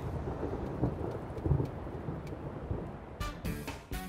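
Low rumbling thunder rolls under steady rain, followed near the end by a sharper crackling burst.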